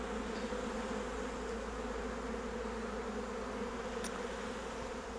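Honey bees hum steadily at an opened Flow Hive Classic cedar frame during an inspection, a continuous low drone of many insects close by with no pauses.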